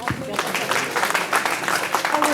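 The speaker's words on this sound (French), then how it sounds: "On peut les applaudir également très très fort." A crowd at a cycling club awards evening applauds the year's leaders, steady dense clapping throughout with voices mixed in underneath.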